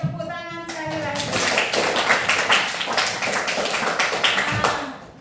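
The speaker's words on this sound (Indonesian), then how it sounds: "Oke, tepuk tangan sekali lagi." Children in a classroom clap their hands together in a steady, fast run of claps lasting several seconds, with a teacher's voice briefly heard at the start.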